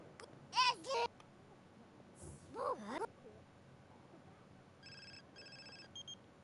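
A phone rings in The Sims video game, a short electronic trilling burst heard faintly near the end, after two brief vocal sounds from a game character over quiet background.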